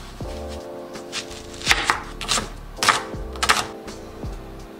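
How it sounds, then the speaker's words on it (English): A knife cuts an onion for vegan meal prep, producing a series of crisp, close-up taps and chops on a board in an uneven rhythm over a low steady background hum, with no voices. "So we're gonna cut our onion."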